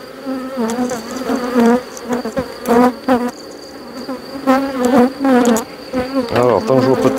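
Honeybees buzz loudly and close around an open hive during an inspection, their droning swelling and fading in repeated bursts as individual bees pass near, with no voices.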